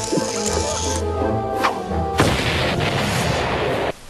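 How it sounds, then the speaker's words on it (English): A cartoon glass of milk bursts apart in a loud crashing explosion, its boom and shattering spray lingering for a couple of seconds over a busy background before cutting off abruptly. "who else would make an exploding glass of milk?"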